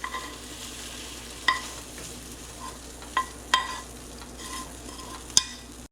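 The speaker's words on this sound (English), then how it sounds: "And then we're going to actually stir it in." Stirring salt into sausages frying in a pan for a big breakfast: a steady low sizzle with a few sharp utensil clicks and scrapes at irregular moments, close by and with no talk.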